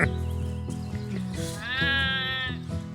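Sheep bleat in a cold, windy Finnish outdoor setting, with a few short calls followed by one long, wavering bleat that carries over the breeze.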